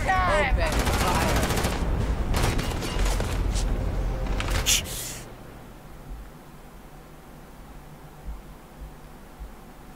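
Gunfire in the space game Starfield: a dense, loud burst of rapid shots and rattling fire for about five seconds, then it drops to a quieter hum with faint scattered noises.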